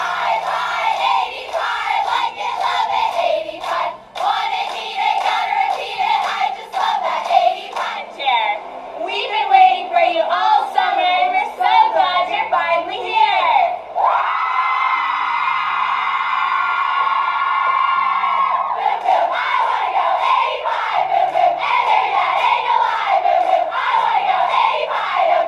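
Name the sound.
sorority sisters chanting and clapping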